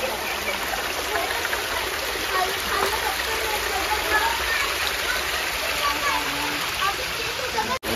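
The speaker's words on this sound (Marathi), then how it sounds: "मंदिरासोबतच इथे छोटासा धबधबा आहे जिथे भिजण्यासाठी लोक येतात" Steady broadband rush of a small waterfall beside a temple near a dam, continuous and fairly close, with no pauses and no talk over it.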